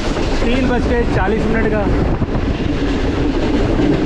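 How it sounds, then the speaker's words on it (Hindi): Karakoram Express passenger train running at speed on rails near Ladni Junction, a steady loud rumble with rail clatter and wind noise throughout, with someone talking over it. "काफ़ी अच्छी स्पीड में ट्रेन हमारी अप्रोच बना रही है"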